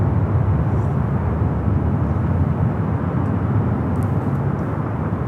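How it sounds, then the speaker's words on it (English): Korean Air Cargo Boeing 777 freighter passing near Los Angeles airport, a steady broadband engine roar holding at even loudness throughout, distant and continuous with no talk. "That's like Korean Air Cargo 777 freighter."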